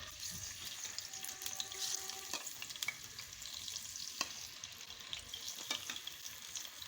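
Ginger garlic paste hits hot desi ghee during tempering for sarson ka saag, giving a faint, steady sizzle with occasional stirring clinks and taps.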